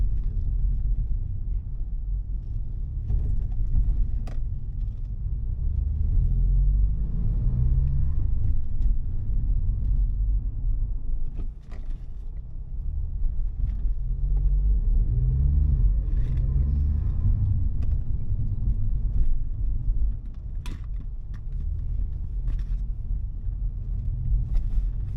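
An mk5 VW Golf GTI fitted with a KO4 turbo kit drives off, its engine a steady low rumble that swells and eases with acceleration, heard from inside the car with no talking.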